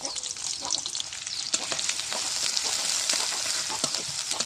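Steady hiss and crackle of chopped onions and green chilies sizzling in hot oil, with occasional scrapes of stirring, close up and continuous.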